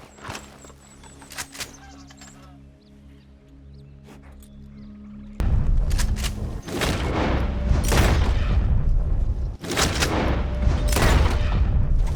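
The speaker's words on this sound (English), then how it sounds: "Always use a varmint rifle and aim for a clean headshot." Varmint rifle shots ring out in Red Dead Redemption 2 while hunting, several sharp cracks early on, then louder bursts of booming gunfire over a rumbling background in the second half.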